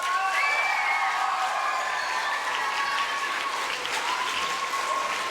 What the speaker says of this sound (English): Again, let's applaud them.